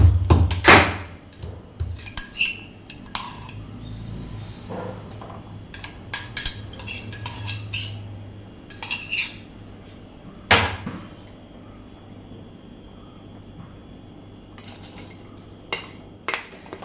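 Ginger being crushed for a drink in a home kitchen comes through as irregular sharp knocks and metallic clinks, some loud and close, separated by quieter gaps, with no talking.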